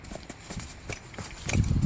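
A horse ridden under saddle, a mare not ridden for a long time, walks with soft, irregular hoof clip-clops that grow louder and closer near the end.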